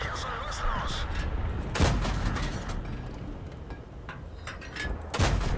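Tank guns in World of Tanks boom in a few heavy, spaced shots over a constant engine and battle rumble, with someone talking throughout.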